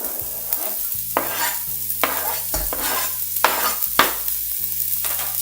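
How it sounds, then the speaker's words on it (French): Chopped shallot and pancetta sizzle in hot oil in a pan, with steady frying crackle broken by repeated scraping stirs of a utensil, close and fairly loud. "je vais y mettre l'échalote et la pancetta hachées"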